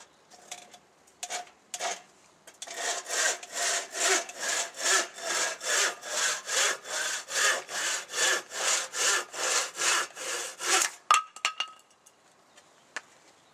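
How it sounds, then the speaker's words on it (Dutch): A handsaw cuts through a wooden stick in about twenty regular, close back-and-forth strokes, preceded by a few scrapes and ending with a snap and clatter as the piece comes off. "Zagen, zaag de stok in twee."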